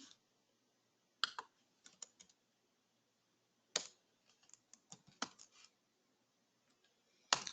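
Keys clack on a computer keyboard as Java code is typed, in several short, quick bursts separated by pauses, close and fairly quiet with no speech.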